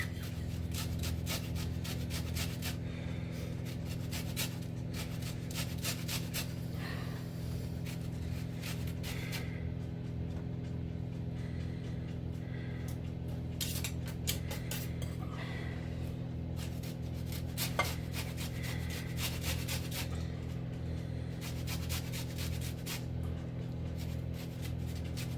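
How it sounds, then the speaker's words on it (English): A lemon is zested against a grater for Yorkshire fat rascals, giving soft, steady rasping strokes over a constant low hum, quiet and close. "following that she'll be zesting the lemon"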